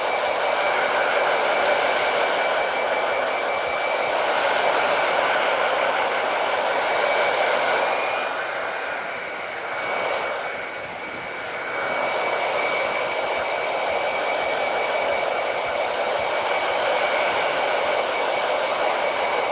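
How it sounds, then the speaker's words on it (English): A handheld blow dryer drying and shaping hair in a barber shop roars steadily up close with a continuous airy whoosh, briefly dipping as the airflow shifts before resuming at full strength. "So what I want to do now is I'm going to start blow drying them."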